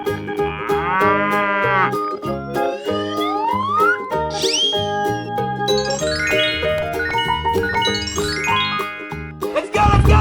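Cartoonish cow moos in a 3D animal video game, loud and close over a bright, tinkling musical score with jingles and sliding tones, ending in a sudden low thump.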